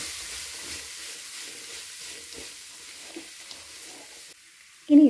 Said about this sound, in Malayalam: അരിഞ്ഞ് വെച്ച ചേമ്പന്താള് നമുക്ക് ഇട്ട് കൊടുക്കാം. നമുക്കതൊന്ന് ഇളക്കി കൊടുക്കാം.